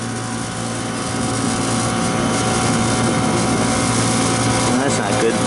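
A rooftop condenser unit at a convenience store running with a steady mechanical drone and fan whir, close and continuous, with a voice talking over it.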